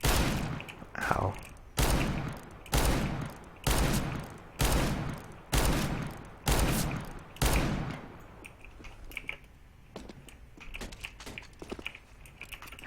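Revolver shots in a Counter-Strike: Global Offensive match, about eight sharp evenly spaced reports roughly a second apart, followed by quieter clicks and faint game sounds.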